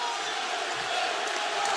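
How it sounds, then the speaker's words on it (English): A Michigan crowd roars steadily inside a college basketball arena during a tight game against Arkansas, a dense, continuous wall of cheering that swells slightly toward the end. "Listen to the Michigan crowd."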